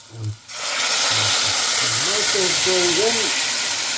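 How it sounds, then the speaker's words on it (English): A loud, steady sizzle of tomatoes and pepper frying in a hot pan begins after a brief moment, with a person talking over it. "Oh yes, nice sizzle."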